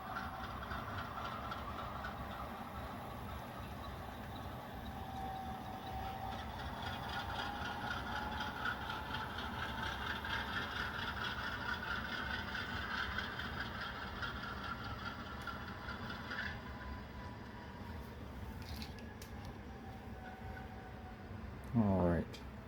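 A model railroad locomotive engine runs steadily at a low, even drone, faint and continuous, with a brief clunk near the end.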